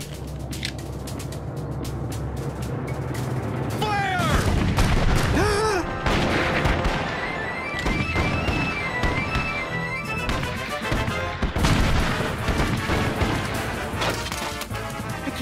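Musket volleys ring out at the Battle of Bunker Hill in an animated Revolutionary War battle, a dense roar of gunfire and crashing bursts filling the scene with loud, layered noise and music-like tones throughout.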